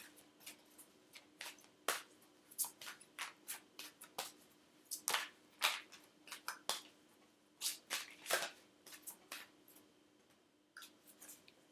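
Oracle cards are shuffled and drawn by hand in a long run of crisp riffling and flicking bursts, some clustered and some spaced apart, close and fairly quiet, with no talk.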